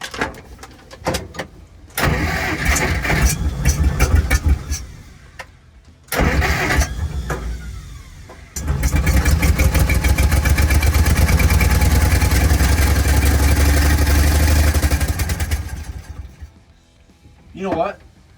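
A Jeep Forward Control parked for 40 years struggles through several bursts of starter cranking, then catches and runs with a rough, loud engine roar before cutting off, with people talking over parts of it.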